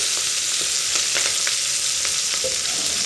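Onion and green chili frying in oil in a pan, a steady loud crackling sizzle with scattered sharp pops and occasional stirring scrapes, no voices.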